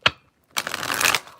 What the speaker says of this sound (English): I am just going to be doing a little bit of a shuffle up before we get started.